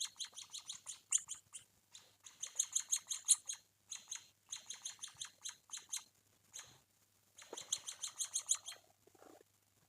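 Emprit kaji munia chicks being hand-fed chirp in rapid, high, bright bursts, with several clustered runs of calls separated by short pauses, fairly close and clear against a quiet background.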